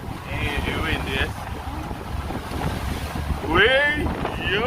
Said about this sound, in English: It's windy in Jamaica.